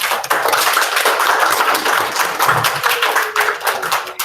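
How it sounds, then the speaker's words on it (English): At a school celebration assembly, a crowd applauds a Scout who received the top Scouting award. The clapping is loud and sustained, a thick wash of claps from many hands that continues throughout. "then you can give him a clap"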